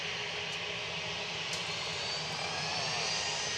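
A Boeing 737-800 jet departs Manchester Airport for Marrakesh with a loud, steady jet engine roar and hiss, holding constant with no talk.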